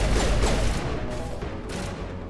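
Grenade blasts in the video game Mass Effect Legendary Edition: a few loud, sharp bursts early on, then fading into a dense, rumbling, crackling wash of combat noise.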